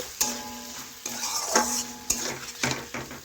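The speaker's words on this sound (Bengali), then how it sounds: "এভাবে আবারও কিছুক্ষণ নাড়াচাড়া করে নিচ্ছি।" A spoon stirs potato curry in a pan nearly dry after covered cooking. Several close scraping and clinking strokes come over a light sizzle, with no one speaking.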